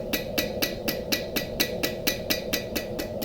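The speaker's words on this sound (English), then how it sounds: "So I'm going with the smaller hammer so I can control" A small hammer striking metal to take out a twist, about a dozen sharp, ringing blows in an even, quick rhythm, close and clear, with no talking.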